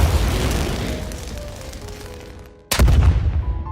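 Deep, rumbling explosions roll through a Filipino horror audio drama, a long decaying boom followed by a sudden sharp blast that bursts loud and close.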